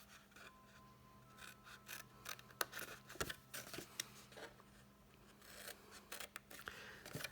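Scissors cut into the lid of a cardboard box, producing quiet, close snipping and rasping strokes in irregular bursts, with no talking over them.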